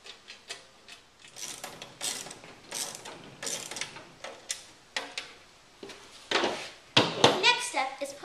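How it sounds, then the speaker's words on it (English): Bolts and hardware being fitted as the back panel goes onto an FJ Cruiser rear cargo basket, giving irregular metallic clicks, taps and ratcheting sounds, close and moderately loud, with no talk. "Next, we're going to bolt the back panel on."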